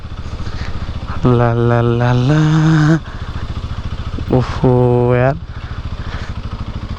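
A motorcycle engine idles with a rapid low putter, then revs hard twice, rising in pitch and holding loud before dropping back. It sounds close, and someone speaks briefly between the revs.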